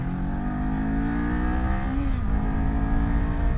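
A 2019 Kawasaki Z400 motorcycle climbs a steep switchback hill under load, its engine revving hard and close in a continuous buzzing drone, with pitch shifting slightly midway as throttle changes.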